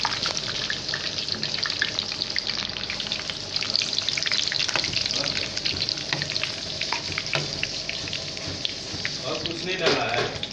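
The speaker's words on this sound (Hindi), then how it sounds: "ये देखिए हमारा चिकन फ्राई हो रहा है यहाँ पे।" Chicken pieces deep frying in a pan of hot oil bubble and crackle busily and loudly up close. The frying keeps going and rises slightly toward the end. No clear speech can be picked out over it.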